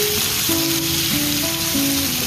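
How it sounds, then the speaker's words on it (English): Chicken sizzles and fries in olive oil in a hot pan for a stir-fry, a loud, continuous crackling hiss close to the microphone. "we have a nice hot pan here. Okay, we're just going to add in some olive oil, and what we're going to do is then we're going to start cooking off our chicken"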